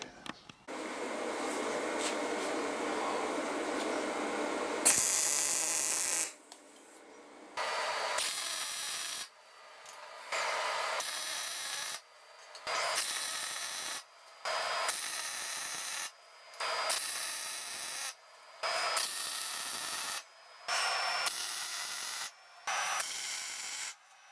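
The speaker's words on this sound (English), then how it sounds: "that's welded in, or tacked in" Tack welding on metal parts for a copper shredder build: a long steady hissing burst, then a regular series of short, loud welding bursts separated by brief pauses, close by with no talk.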